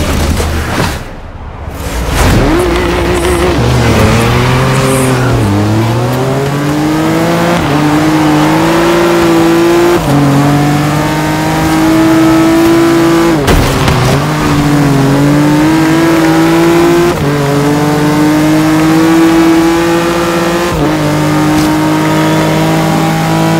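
A racing car engine in Forza Horizon 3 revs loudly and holds close to the listener, rising and falling through repeated gear changes. It roars steadily with a brief dip early on, and there is no talking.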